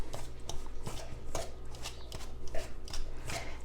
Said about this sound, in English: I'm using my dough hook, my Danish whisk, and we'll see how this works.